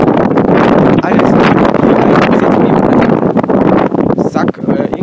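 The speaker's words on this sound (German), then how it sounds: "ist das heute windig" Strong wind buffets the microphone beside a railway line in Rosenbach, a loud continuous roar with gusting rumble, with a voice talking over it.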